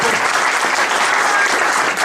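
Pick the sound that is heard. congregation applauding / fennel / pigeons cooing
congregation applauding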